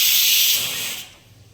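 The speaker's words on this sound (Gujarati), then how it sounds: "તો આપણી સીટી પણ થઈ રહી છે સાઈડમાં." A pressure cooker cooking chana dal lets out a loud, close, steady hiss of escaping steam that fades and cuts off after about a second.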